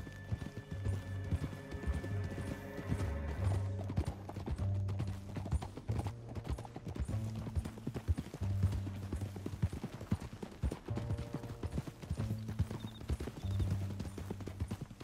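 Steady clip-clop of horses' hooves continues throughout, moderately loud, beneath a sustained musical score.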